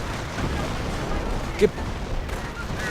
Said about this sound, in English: And artillery firing away as well.